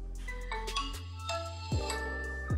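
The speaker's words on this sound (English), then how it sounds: "here's a quick snippet from my first boot video" Startup chime of a Nokia 6 phone on first boot, a bright melodic ringtone-style jingle of several tones over a low sustained bass, clean and close with no talking.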